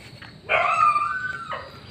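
A single drawn-out dog bark or yelp near a rural house, loud and close, standing alone against quiet background for about a second.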